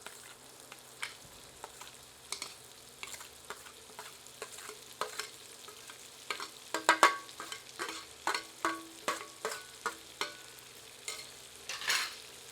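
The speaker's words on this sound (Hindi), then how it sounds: "अब प्याज को तब तक भूनेंगे जब तक कि प्याज गोल्डन कलर की नहीं हो जाती।" Onions frying in a pan for a banana flower sabzi, a low continuous sizzle broken by repeated sharp spatula scrapes and clacks that grow busier midway, close and clear with no talking.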